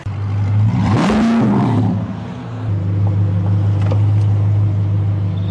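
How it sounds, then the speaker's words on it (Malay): A sports car engine revs loudly, holding a steady, close drone that surges up and falls back in pitch around the first second before settling into a constant roar. No voices. "biasa kereta sport macam ni memang bunyi dia kuat sikit"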